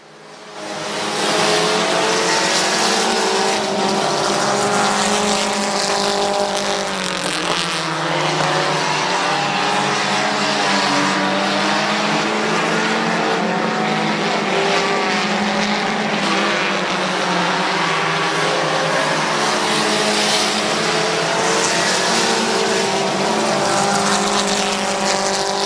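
Race cars circle a short oval at Midvale Speedway, a continuous loud roar of several engines with shifting pitch as cars pass, steady throughout with no talk.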